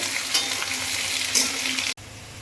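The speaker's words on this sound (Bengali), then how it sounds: "পেঁয়াজ একটু রসুন সমস্ত কিছু একটু ভালো করে নাড়বো" Fried potatoes stirred with chopped onion and garlic in a pan, a loud continuous frying sizzle with a few sharper scrapes, cutting off briefly near the end.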